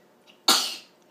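A single sharp sneeze bursts out at home around dinnertime, loud and close, with a quick airy onset that fades over about half a second, preceded by quiet room tone.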